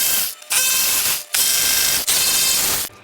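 Screws come out of a panel on a BMW R1300 GSA motorcycle with a ratcheting driver and a T25 bit, giving three loud, close bursts of rapid clicking separated by short pauses.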